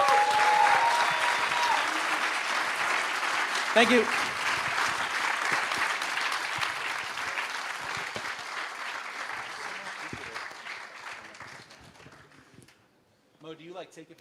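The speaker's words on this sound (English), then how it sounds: "Huge round of applause for our panelists." Conference audience applauding panelists at a tech event, loud dense clapping that gradually fades over several seconds, with a brief spoken thanks near the start and voices emerging as it dies away.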